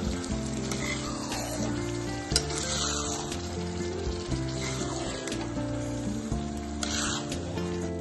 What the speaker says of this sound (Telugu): పచ్చడిని కొంచెం వేపుకోవాలి.